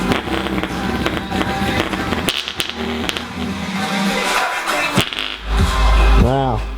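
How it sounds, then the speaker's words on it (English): A DOS loudspeaker driver being blown out, with short crackling pops and bursts rising to a loud low rumble and a swooping tone at the end, over close background noise. "Let's blow all 6 of these drivers really, really quickly and see how we go."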